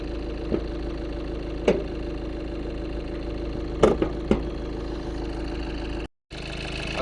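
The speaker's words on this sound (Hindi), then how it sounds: "अगर आप पूरा हुड खोल के इसको देखो तो इंजन की नॉइज़ काफ़ी ज़्यादा आती है" A Tata Nexon Pure Plus with a 1.5 L turbo diesel engine idles in a steady, low, fairly quiet drone, broken by a few sharp clicks and one brief dropout.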